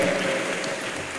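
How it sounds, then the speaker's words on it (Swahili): Audience clapping for young entrepreneurs as they leave the stage at a youth business programme event, steady dense applause filling the whole moment without speech. "Let's clap for them as they leave stage"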